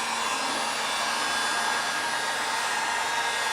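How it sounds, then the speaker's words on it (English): A heat gun blows over a fresh acrylic paint pour, a loud steady whooshing hiss of hot air that runs continuously and alone, with no talking. "I'm going to hit it with the heat gun real quick."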